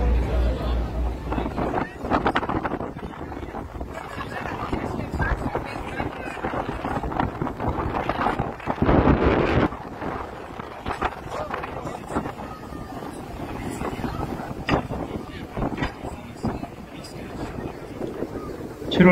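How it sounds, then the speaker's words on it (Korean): Strong wind buffets the microphone aboard a crowded cruise boat touring the 1000 Islands in early July, with gusty rumbling throughout and the babble of people on deck underneath. "7월 초의 날씨인데 아주 바람이 컸습니다."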